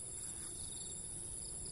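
Crickets chirp in a steady, high, continuous trill on an evening outdoors, fairly faint and alone with a low background hum and no voices.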